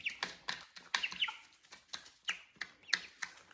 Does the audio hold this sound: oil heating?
no